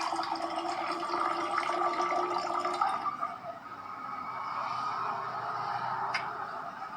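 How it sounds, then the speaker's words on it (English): Water is poured slowly from a glass, making a steady, soft rushing trickle for about three seconds. A fainter, thinner trickle follows, with no voices. "Now we are going to pour the water from the glasses one by one."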